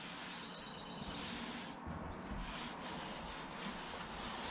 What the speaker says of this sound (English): so I'm just wiping that in, trying to take off as much of the excess as possible.